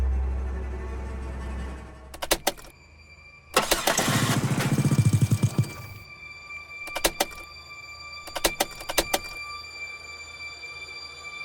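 Car engine cranking and sputtering as it tries to start, a loud rapid churning burst lasting a couple of seconds amid clicks and mechanical clunks in an otherwise quiet scene.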